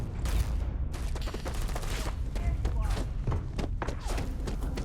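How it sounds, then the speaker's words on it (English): Dense bursts of gunfire crackle steadily through a firefight in the space game Starfield, with thumps mixed in and a voice talking over the shots. "What are we shooting at right now?"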